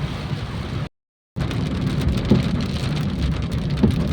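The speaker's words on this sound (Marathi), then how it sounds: "खूप खूप असा हा पाऊस आहे मित्रांनो" Heavy rain pours down in a dense, continuous hiss, briefly cutting out near the start before resuming just as strongly.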